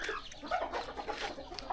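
Native Thai chickens clucking close by in a backyard, a busy overlapping flurry of short clucks and calls without pause.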